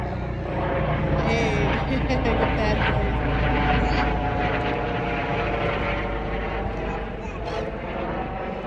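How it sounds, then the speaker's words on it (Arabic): Propeller airplane droning overhead in Egypt, a steady continuous roar that holds for the whole stretch, with someone talking over it. "في صوت طياره"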